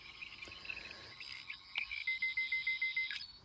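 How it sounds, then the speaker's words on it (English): A rapid electronic alarm from a Doctor Who 15th Doctor toy sonic screwdriver beeps in a quick regular pulse, preceded by high whirring tones and short chirps, fairly faint and alone. "your scanning overload sound from Jodie Sonic, which shorts out the crystal's power, and even plays a little alarm."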